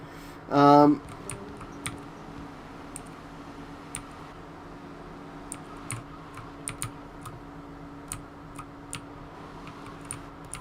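Sparse keyboard and mouse clicks, faint and irregular, come from a PC player during a GTA Vice City Definitive Edition stream, with a brief burst of game sound near the start and quiet room hiss throughout.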